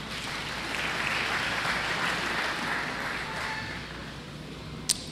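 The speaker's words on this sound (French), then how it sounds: "Acclamez la parole de Dieu." A church congregation applauding, a dense and even wash of clapping that holds steady for about five seconds, with one sharp knock near the end.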